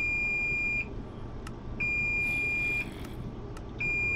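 A kitchen timer goes off while corned beef and cabbage cooks, sounding three sustained, steady electronic beeps about a second long with short gaps, loud and piercing over a low background rumble.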